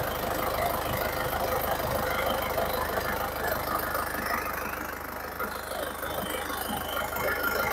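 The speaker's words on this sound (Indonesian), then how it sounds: "Ini kondisi mesin hidup, anteng ya, tidak goyang ya" A 2005 Isuzu Panther Grand Touring engine idles steadily and smoothly at close range, a continuous even rumble with no break or change in pace throughout.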